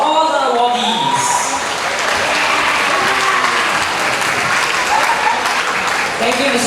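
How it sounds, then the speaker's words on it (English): A graduation audience applauds award recipients with steady, dense clapping that fills the hall for several seconds at full strength, a few voices faintly audible beneath it. "Let us now give another round of applause to all the awardees."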